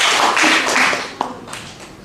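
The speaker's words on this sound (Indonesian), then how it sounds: "Yuk tepuk tangan lagi buat Yesus" A church congregation at an end-times sermon in Harapan Indah, Bekasi, claps for Jesus, a brief burst of crowd clapping that soon fades, with one sharper tap partway through.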